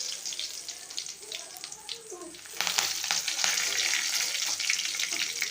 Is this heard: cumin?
yes